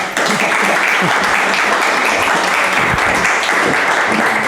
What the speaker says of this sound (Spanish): Muchísimas gracias y un fuerte aplauso para las dos.